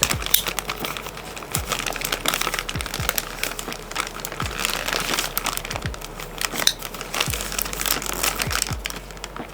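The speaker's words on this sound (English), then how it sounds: "I always have to tend to cut the bag open a little, but I'm always scared I'm gonna cut the books" A plastic bag holding books is cut open, giving continuous close crinkling and rustling with scattered sharp clicks and snips throughout, loud and alone.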